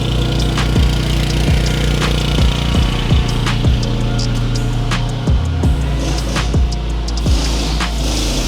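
An FGW160Q welder-generator's small engine runs at a steady, loud idle, holding an even droning hum throughout with no one talking.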